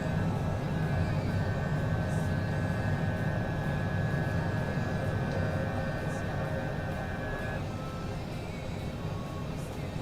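Cessna Citation CJ4 business jet climbing after takeoff in a flight simulator, a constant dense engine roar with a high whine that fades out partway through, over faint speech.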